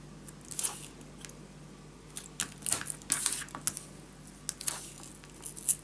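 Strips of craft tape being pulled and pressed down while building a scrapbook storage tower, a series of short crisp tearing and tapping crackles in irregular bursts, close up, with no talk.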